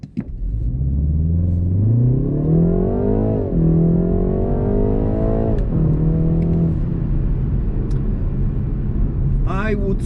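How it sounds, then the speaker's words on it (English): A BMW 330i M Sport G20 launching hard from a standstill, its engine note climbing steadily and loud, with gear changes audible as the pitch drops and rises again through the first gears. "let's stop and try to launch this car"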